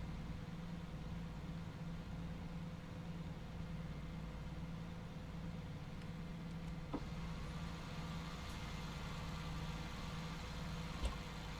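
A Cummins 605 hp engine with a 13-speed transmission in a T-800 truck mod idles in American Truck Simulator, a faint, steady low rumble with a couple of small clicks.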